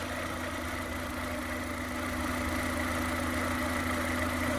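A Suzuki Jimny fitted with a converted 1.6 litre engine idles steadily and fairly quietly, a low, even hum with a slight misfire, holding a constant level with no voices.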